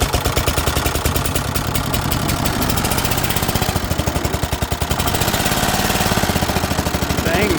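A Dixon ZTR Kodiak SE zero-turn riding mower engine cranks and starts, then runs with a loud, steady, rapid knocking pulse close by, without talk.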